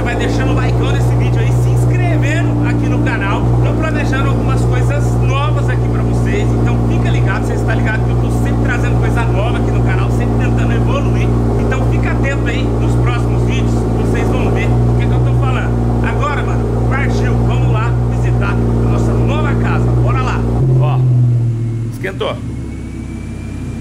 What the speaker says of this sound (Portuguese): Esquentando aqui o motor, né?